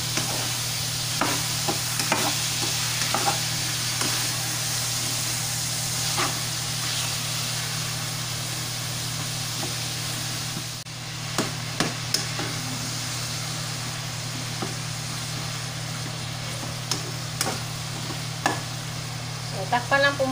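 Ground pork for pork picadillo frying in a pan, a steady broadband sizzle running the whole way with scattered clicks and scrapes of stirring, plus a constant low electrical hum underneath.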